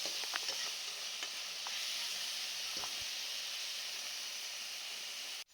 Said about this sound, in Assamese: এতিয়া সেই গুটি আলু কেইপিচো ইয়াতে মাংসখিনি দি দিছোঁ, দি পিনি গুটি আলুখিনি আৰু মাংসখিনি আকৌ এবাৰ লৰাই সিজিবৰ কাৰণে ৰাখি দিম।